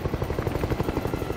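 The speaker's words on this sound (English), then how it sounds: "Two Black Hawk helicopters take off from a U.S. airbase" Two Black Hawk helicopters take off from a U.S. airbase near Jalalabad, Afghanistan, producing a loud, rapid rhythmic rotor thumping with a steady, close beat.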